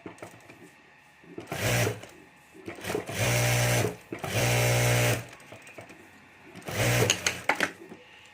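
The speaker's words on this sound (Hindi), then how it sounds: "तो यहाँ ऊपर मैं चारों तरफ सिलाई कर देता हूँ।" A sewing machine stitches around the border of layered fabric with rubber sheet and lining, running in several loud bursts of rapid mechanical whirring separated by short quiet pauses.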